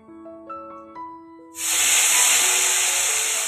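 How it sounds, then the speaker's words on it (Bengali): Potatoes drop into hot oil in a pan on a clay stove and erupt into a loud, steady sizzling hiss that continues without pause, following a few faint clinks beforehand. "বেগুন ভাজা, পটল ভাজা, শাক ভাজা হয়ে গেছে, আলুটা ভেজে নিই।"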